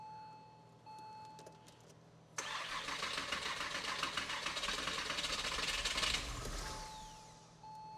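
A Porsche Boxster engine, just refreshed after an engine-out rebuild and still short of fuel pressure, cranks and catches into a loud, steady idle that runs for about four seconds before dropping back.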